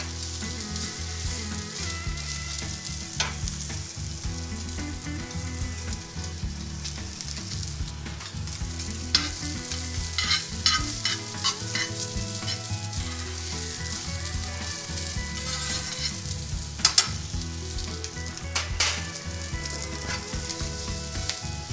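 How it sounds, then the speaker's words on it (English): Salmon sizzles steadily in butter in a hot pan, a loud, close, continuous frying hiss with occasional pops and light stirring or scraping, and no talking. "Turn the salmon down a little. I'm going to cook this to medium."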